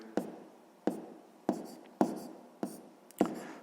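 A pen writes out a sixth-grade math answer in six short, close scratches at an even rhythm, with no talking.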